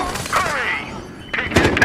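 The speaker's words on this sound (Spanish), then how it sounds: "Es que escucho disparos, creo que vienen por acá." Gunfire in the video game Battlefield Hardline, with scattered bursts and booming shots heard close, partly mixed with talk.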